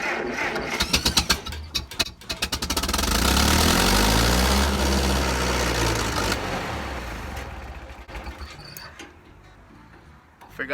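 A snowblower engine is cranked with the fuel shut off, a rapid mechanical chugging that swells into a loud sustained churn for several seconds and then fades into scattered ticks, close up and with no talking.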